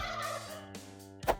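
A wild Merriam's turkey gobbles in a rapid, warbling rattle, then gives a sharper, louder call at the end, heard alone outdoors.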